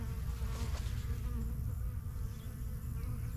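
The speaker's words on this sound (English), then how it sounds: "There's a mess of bees down here." Honey bees swarm and buzz around an opened hive during a July beehive inspection, a dense, continuous close drone that stays steady and loud throughout.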